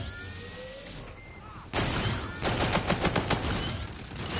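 Charge-shot gunfire from a G-Rail weapon in a video game: after quieter game tones, a sudden burst starts a run of rapid, loud, repeated shot pulses.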